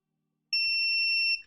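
A multimeter in continuity mode gives one steady, high electronic beep lasting under a second, clean and fairly loud against near silence.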